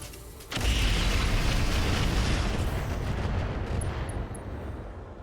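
A volley of Rocket 20 missiles fired at a Sunder in the mech game RogueTech, a sudden roaring, sustained barrage of explosive rumble that stays loud and dense for several seconds before easing slightly.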